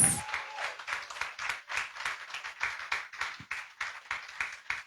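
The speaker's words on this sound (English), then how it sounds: "We ask you to keep that round of applause going." Steady clapping from an awards gala audience, a dense patter of hands that carries on evenly throughout, slightly distant.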